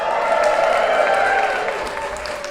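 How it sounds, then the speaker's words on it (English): Audience at the Northern Roots traditional music festival responding with sustained applause and cheering, a loud, even roar of clapping and shouts that tapers slightly toward the end. "Can I have a big Northern Roots cheer?"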